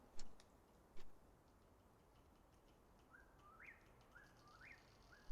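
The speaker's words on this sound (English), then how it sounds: "you hear the morning birds starting to chirp" Morning birds chirp faintly at dawn, a few short rising tweets in the distance over a steady hiss of background noise, with a couple of soft ticks.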